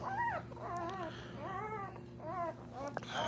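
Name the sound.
newborn Boerboel puppy whimpering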